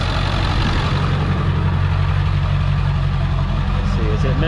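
A work truck engine with a big hole in its muffler idles up close, a loud, raw, steady rumble with a rough low throb that holds unbroken throughout.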